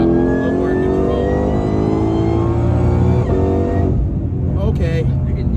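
A 1000 hp 2020 Shelby GT500 V8 revs hard while accelerating in third gear. Its loud, close engine note climbs steadily in pitch, then drops sharply near the end, with voices briefly heard inside the car.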